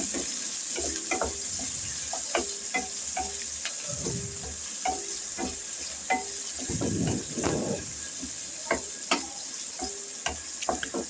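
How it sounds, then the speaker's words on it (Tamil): Onions sautéing in a pan for Tamil-style fish salna, a soft steady sizzle with scattered clicks and scrapes of a spatula stirring, louder stirring bursts midway, no voices. "வெங்காயமும் நல்ல பொன்னிறமாக வதங்குற அளவுக்கு சேர்த்துக்குங்க"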